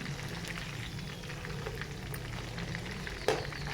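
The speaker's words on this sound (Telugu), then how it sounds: "అటు ఇటు తిప్పుకొని మనం ఫ్రై చేసుకోవాలండి జాయింట్ పీసెస్ని" Chicken leg joint pieces fry in a pan over a medium flame, giving a steady, close, dense crackling sizzle with one brief clack near the end.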